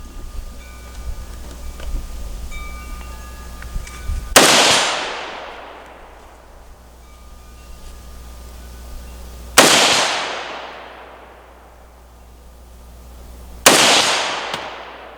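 Three loud, sharp rifle shots from a PSA AK firing Winchester white box ammunition, each spaced several seconds apart with a long echoing decay outdoors.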